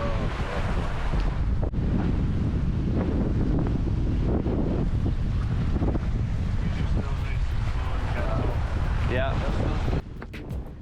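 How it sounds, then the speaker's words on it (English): Strong wind roars steadily across a sailboat off the Colombian coast near Santa Marta, buffeting the microphone along with rushing water, and voices are heard faintly under the gusts. "That is windy."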